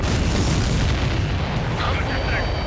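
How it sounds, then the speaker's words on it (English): A missile hit explosion in the jet combat game Ace Combat 7 gives a loud, deep booming blast that rumbles on under radio chatter and game audio. "Missile hit."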